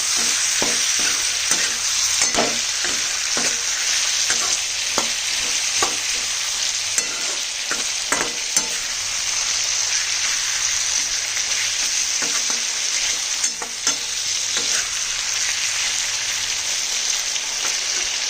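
Ginger garlic paste stir-fried in a pan, with a continuous sizzle and repeated rhythmic scrapes and taps of a spatula mixing the contents, close and even in loudness for the whole stretch.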